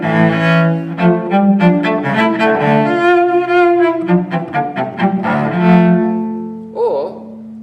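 Solo cello playing Piatti Caprice No. 4, short notes taken with the entire bow alternating between frog and tip; a rapid, continuous run of bowed notes, close and loud, ending on a brief held tone.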